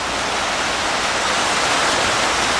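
Water rushes steadily through a fish ladder beside a dam on the Lehigh River, a dense, constant roar like a waterfall that holds at the same close, loud level throughout with no breaks.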